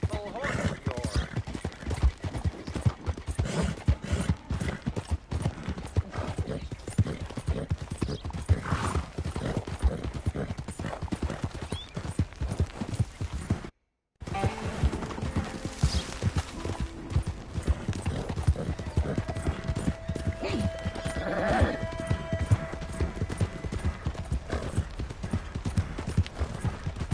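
Horse hooves clip-clop in a steady rhythm in the video game Red Dead Redemption 2, continuous and close, with a brief break midway, faint background sounds and talk heard over the hoofbeats.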